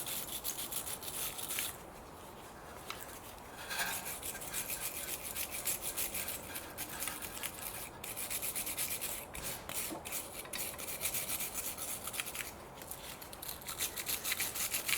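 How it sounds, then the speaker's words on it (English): Stiff brush scrubbing brake dust and corrosion off the rear brake of a 2008 BMW 318i E90, a steady rapid bristly rasping that runs continuously and close up with brief pauses. "Now I've got this brush to brush this up."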